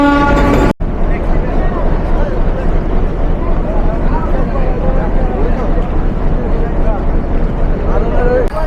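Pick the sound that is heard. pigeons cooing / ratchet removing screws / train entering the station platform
train entering the station platform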